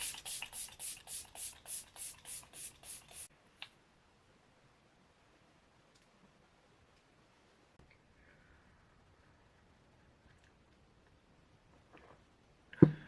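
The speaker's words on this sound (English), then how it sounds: "we're going to go in with setting spray again, just to lock in this powder makeup" Makeup setting spray is pumped over powder makeup in about ten quick, evenly spaced misting bursts. Near silence follows, broken only by faint rustles.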